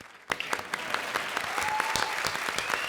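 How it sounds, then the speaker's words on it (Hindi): Studio audience applauding on an Indian TV comedy show, Comedy Circus, with steady sustained clapping that starts abruptly and continues evenly throughout. "थैंक यू अरबाज के लिए ताली बजाई"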